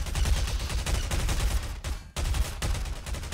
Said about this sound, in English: Oh, the tank's shooting at him.